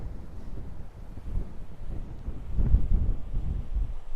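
Strong wind sweeps across open Scottish hills, a low, steady rumble of gusts and microphone buffeting that swells louder in the second half, with no voices heard.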